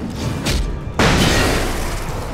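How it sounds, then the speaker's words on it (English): A flashbang detonates in the video game Alan Wake: a short thump, then a sudden loud burst that fills the space and slowly decays into a ringing wash. "You go have a flashbang."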